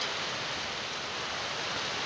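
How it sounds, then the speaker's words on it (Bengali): Heavy rain pours steadily with a light breeze, a dense unbroken hiss with no voices or other distinct sounds. "খুব বৃষ্টি হচ্ছে"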